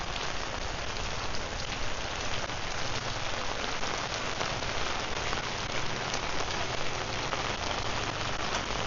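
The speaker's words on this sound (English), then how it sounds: "or just want to escape the rain" Steady rain pours onto a street during a morning walk in Kathu, Phuket, Thailand, a dense continuous hiss of drops close by, with no one talking.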